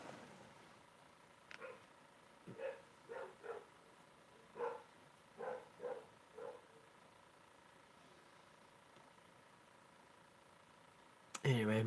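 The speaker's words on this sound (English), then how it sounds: "my dogs are kind of going crazy out there" Several dogs bark outside at night, distant and muffled, in a loose series of separate yaps and barks over a low room hum, ending in a louder close sound.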